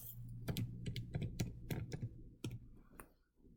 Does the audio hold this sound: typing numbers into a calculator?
yes